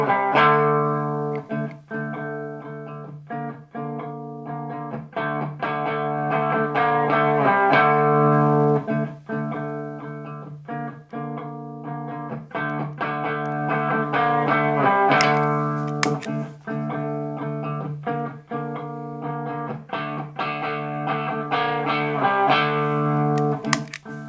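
A clean electric guitar plays through an amp alone, notes and chords struck firmly and ringing out, played harder and growing louder and more forceful as it goes.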